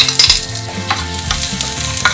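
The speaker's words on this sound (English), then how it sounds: "Our pan is ready, so we can put garlic in it." Garlic frying in butter in a pan, a close, steady sizzle with stirring and scraping clicks scattered through it, no voices.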